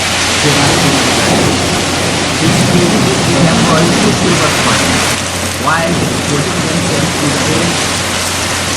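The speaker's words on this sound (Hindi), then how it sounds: "अचानक से तेज हवा चलने लगती है, तो बारिश के साथ हेलस्टोन, ओले" Strong wind drives heavy rain with hail in a violent storm, a loud, steady, unbroken roar of water pounding surfaces that stays dense throughout with a slight dip partway through.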